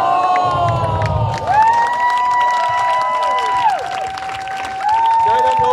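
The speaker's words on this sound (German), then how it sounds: "Kleiner Applaus" Carnival audience at a session opening in Lage, Lippe, cheering and clapping in a hall, with whoops and shouts, while long whistle-like tones sweep over the crowd noise.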